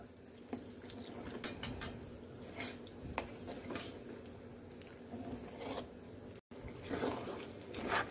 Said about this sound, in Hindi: अब ये दाल का जो पेस्ट है हम इसमें धीरे धीरे डालेंगे, पो करेंगे। और एक हाथ से मिलाते जाइए।